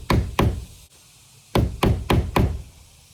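Six sharp metal-on-metal knocks, a broken screwdriver used as a punch driving nails into a DIY wooden shed, close and loud in two groups with a short pause between.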